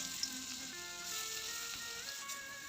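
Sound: fish frying in a pan

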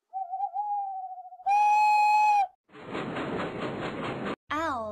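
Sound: owls hooting in toddler counting mobile game

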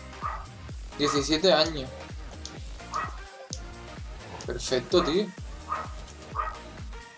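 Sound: dogs barking

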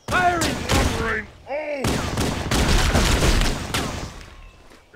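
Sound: gunfire in the video game Halo 3

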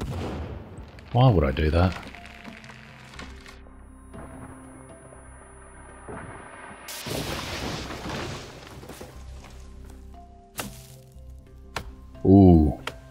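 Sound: dynamite exploding in video game The Forest

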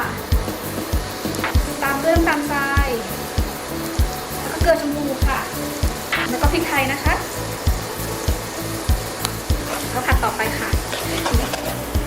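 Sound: stir-frying sponge gourd with duck egg and fresh shrimp

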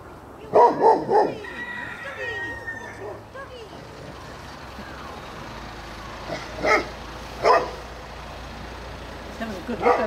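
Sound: dog barking

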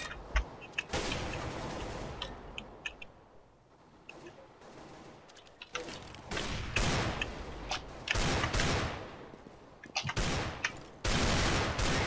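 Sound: gunfire in the video game CS:GO

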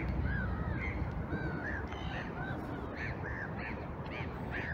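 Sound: gulls calling by a lake

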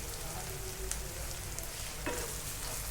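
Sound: steamed vegetables sautéed in roasted tomato puree for pav bhaji

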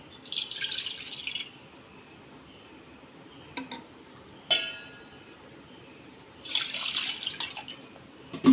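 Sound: water being poured

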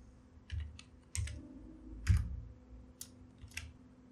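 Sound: typing on a computer keyboard

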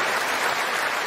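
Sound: audience applause

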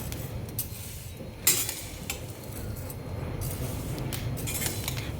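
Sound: grains for thalipeeth bhajani being stirred while roasting in pan

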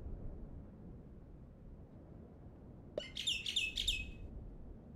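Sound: woodpecker unit call in the video game Super Auto Pets

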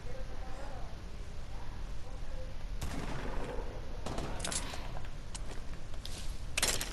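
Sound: pistol gunfire in the video game Fortnite

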